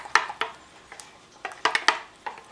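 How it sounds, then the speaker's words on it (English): A utensil stirs honey yogurt sauce in a bowl, giving scattered light clinks and taps. The strikes come in irregular bursts, close and fairly quiet. "And we're just going to mix that up."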